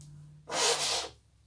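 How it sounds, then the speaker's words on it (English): A person blowing their nose once, a loud, close, breathy honk lasting about half a second against a quiet room hum, with no talk. "I gotta blow my nose again"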